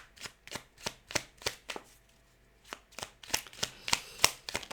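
Oracle cards being shuffled and drawn: a series of soft, crisp riffling slaps in an irregular rhythm, close and quiet, with a brief pause midway before the flicks resume more quickly.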